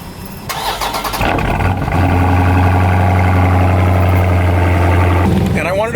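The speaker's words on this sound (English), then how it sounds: "Let me give you guys a cold start here." A supercharged Dodge Charger Hellcat/392 V8 cranks and fires on a cold start, flaring loud and then settling into a steady, heavy high idle with a strong low rumble, close to the mic.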